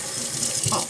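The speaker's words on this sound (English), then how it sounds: "Let me rinse my hands." Water runs steadily from a kitchen tap as hands are rinsed under it, a close, even splashing with small changes as the hands move through the stream.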